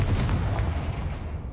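The Confringo fire blast spell in Hogwarts Legacy lands as a booming, fiery burst with a broad rumbling roar that stays loud and dense for the whole moment.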